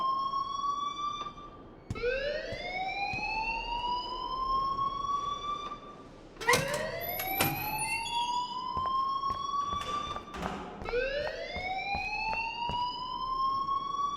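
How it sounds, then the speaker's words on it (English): A school fire alarm in the video game Life Is Strange wails in repeated rising sweeps, each one climbing and then cutting off, loud and continuous with sharp clanks and bangs mixed in. "please turn off that alarm since that's your job"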